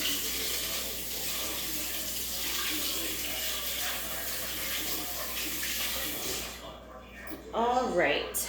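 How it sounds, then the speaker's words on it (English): Tap water runs steadily into a kitchen sink as apples are rinsed under the stream, a soft, constant hiss with splashing that shifts near the end when a voice briefly speaks. "so just gonna wash the apples real quick"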